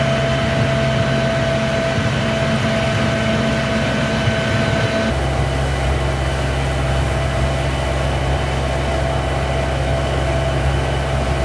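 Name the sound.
cooling fan running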